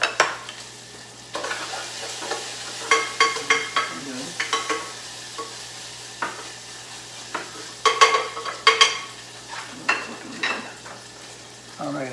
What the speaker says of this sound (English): I hear my bacon popping behind me